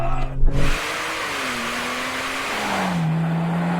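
A Porsche 911 Turbo S accelerates hard in a drag race, its engine note climbing steadily through the gears after a brief burst of noise at the start, loud and continuous.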